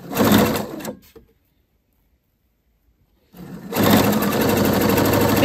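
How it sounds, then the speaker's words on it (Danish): Sewing machine stitching a seam through sequined tulle for a skirt, running in a loud burst, stopping for about two seconds of silence, then starting again and running steadily to the end. "Og så syer jeg en lille søm her, hvor jeg hæfter i starten."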